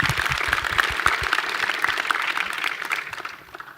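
Audience applause fills a conference Q&A hall at a web developers' event, a dense patter of clapping that stays fairly steady and then thins toward the end, with no voices over it.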